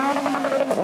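A rally car engine drones steadily up close while its tires scrub and skid under the handbrake, one short continuous burst of motor and tire noise.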